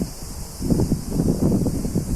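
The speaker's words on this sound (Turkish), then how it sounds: "Evet esmeye başladı rüzgarlar" Wind gusting through a forest, a rushing, rustling swell that rises partway through and stays fairly loud, with no speech.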